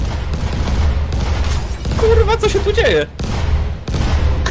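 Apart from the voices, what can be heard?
fireworks exploding in a video game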